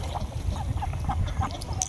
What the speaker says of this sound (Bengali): দেখেন কত সুন্দর হাঁসটি নামতাছে